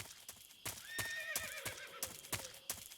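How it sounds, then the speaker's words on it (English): A horse in Metal Gear Solid 3 gives a clear, wavering neigh over a rhythm of clip-clopping hooves, close by and fairly quiet. "Un caballo"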